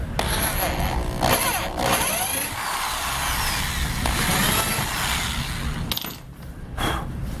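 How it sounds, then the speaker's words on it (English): A power drill whirs steadily, grinding into a kayak seat mount with brief pauses and restarts, loud and close throughout. "And just barely drill this side."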